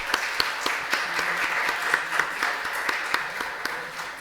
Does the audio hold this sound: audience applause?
yes